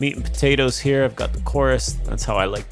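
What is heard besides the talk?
None of the usual background noises is heard.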